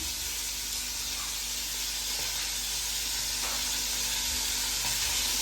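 Pieces of dried fish frying in hot oil make a continuous dense crackling sizzle at a steady level, with occasional small pops and stirring sounds throughout.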